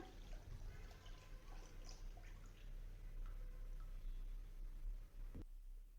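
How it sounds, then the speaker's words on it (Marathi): Coconut water pours from a fresh coconut into a bowl in a steady, faint trickle that continues for several seconds over a quiet background. "याप्रमाणे हे पाणी एका बाउलमध्ये काढून घ्या"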